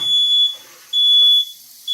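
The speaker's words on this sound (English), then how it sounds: "smoke or not, my fire alarm goes off" A heat-triggered fire alarm mounted behind a kitchen stove goes off in loud, piercing, steady electronic tones, broken by short gaps, with no talking.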